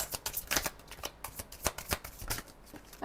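Playing cards being shuffled and a single card drawn for a tarot-style reading, with a quick run of crisp riffling flutters and soft slaps close up, and a sharper flick at the very end.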